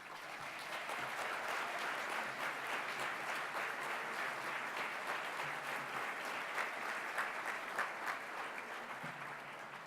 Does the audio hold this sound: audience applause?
yes